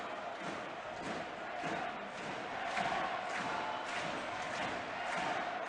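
An ice hockey arena crowd at a Manchester Storm home game, fans on their feet clapping in rhythm and chanting, heard as a distant, steady, muffled roar throughout.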